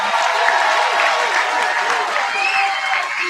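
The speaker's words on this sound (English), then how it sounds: "let's give our 8th graders a big round of applause" Sustained applause from a school audience cheering eighth graders at a promotion ceremony, a dense steady wash of clapping with some crowd noise mixed in, fairly loud and continuous throughout.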